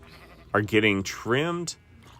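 Sheep in a wool farm video game bleat close and loud, several wavering cries in quick succession overlapping one another, then fade to quiet.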